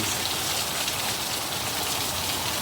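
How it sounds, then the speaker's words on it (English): Heavy rain pours down steadily in Arizona, a dense, continuous hiss of drops with no voices. "it is raining cats and dogs out here in Arizona right now"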